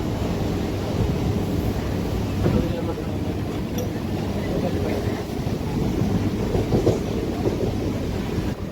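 A continuous low rumble and clatter of a local train from Kalyan in motion, steady and loud throughout, with faint voices mixed into the noise.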